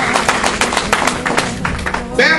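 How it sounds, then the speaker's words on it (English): Worshippers in a church clap their hands in quick, regular rhythm as praise, the claps fairly loud and close, partly under a voice speaking over them. "give God a hand clap of praise"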